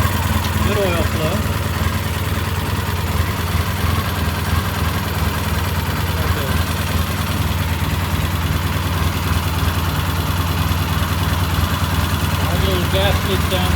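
A Triumph T140V motorcycle engine idles close by with a continuous, steady rumble and dense mechanical clatter that holds without letup throughout.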